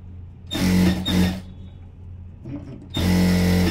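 Sewing machine running in short bursts while double-stitching the waistband of a silk skirt, three close whirring runs, two quick ones then a longer one after a quiet pause, no talking.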